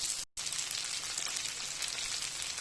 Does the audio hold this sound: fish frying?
yes